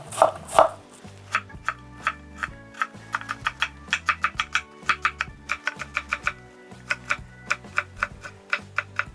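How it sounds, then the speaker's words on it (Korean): Knife julienne-cutting sweet potato on a cutting board, a steady series of crisp rapid chops in quick rhythmic runs with brief pauses, close and clear, with a low musical backing underneath. "이렇게 채 썰듯이 썰어줍니다"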